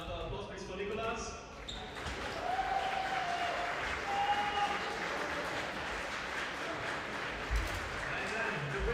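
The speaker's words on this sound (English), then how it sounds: "Another applause please for Nicolas." An audience at a longsword fencing tournament prize ceremony applauds a winner, with sustained clapping that swells after a brief lull and carries on for several seconds, with voices mixed in.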